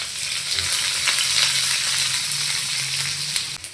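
Onions frying in a pan, a loud continuous sizzle close by with faint stirring, steady throughout and dropping slightly at the very end.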